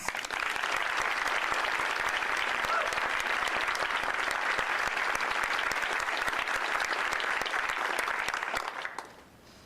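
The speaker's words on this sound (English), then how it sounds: "Please join me in giving them a round of applause." Sustained applause from an inauguration audience for a Knoxville mayoral ceremony, a thick continuous patter of many hands that stays loud and even before tapering off abruptly near the end.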